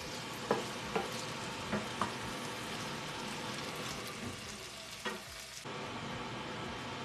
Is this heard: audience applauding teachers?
no